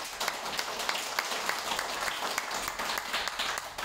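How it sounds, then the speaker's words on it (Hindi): Steady applause from a seminar crowd at a network marketing talk, a continuous wash of many hands with a few sharper claps standing out, moderately distant and even. "आप सबको मैं सबके लिए जोरदार ताली।"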